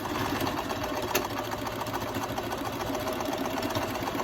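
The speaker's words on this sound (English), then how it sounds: "You can do a zigzag stitch right in through here." A sewing machine runs a steady, continuous zigzag stitch along the hem of a pair of jeans, with its motor humming loudly and a fast, even mechanical chatter throughout.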